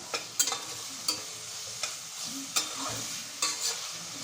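A small tomato being stirred into mutton curry in a pressure cooker, soft sizzling under a few sharp scrapes and knocks of a spoon against the pot, quiet and close.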